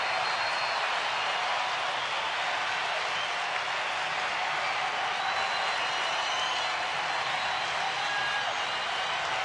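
A baseball stadium crowd at a Toronto-at-Detroit game, a broad, steady wash of cheering and clapping heard at a moderate distance, with no distinct voices standing out.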